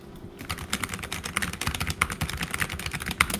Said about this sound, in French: il est à côté de mon clavier. Wesh, il est en train de le marteler.